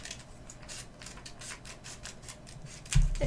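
Scissors trim origami paper in a quick series of close snips and paper scrapes, ending with a louder knock or thump.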